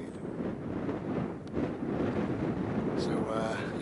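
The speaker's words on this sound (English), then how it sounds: "It's very windy" Strong wind gusting across an exposed hillside, a steady broadband rush buffeting the microphone throughout, with a faint higher whine near the end.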